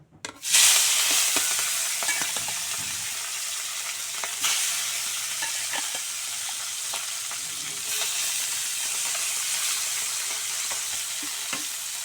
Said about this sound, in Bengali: মাছগুলো চুলায় দিয়ে দিচ্ছি, সুন্দর করে ভেজে নেব।